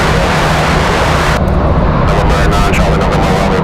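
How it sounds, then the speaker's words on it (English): A Pilatus PC-12 turboprop landing at Raleigh-Durham International in windy conditions, heard as a loud, steady engine and wind roar throughout. "Beautiful PC-12. And a beautiful landing. Nice and smooth for the Pilatus."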